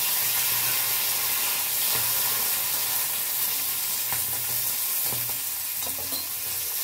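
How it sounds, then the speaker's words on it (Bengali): Peas with cumin seeds and bay leaf being stirred in a frying pan: a steady, close sizzling hiss with soft scraping strokes throughout. "আর আমি এই মটরশুঁটিটা দিলাম, একটুখানি নাড়াচাড়া করে নিচ্ছি"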